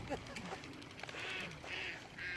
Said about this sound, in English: Colorado River, and the ducks think we're gonna feed them.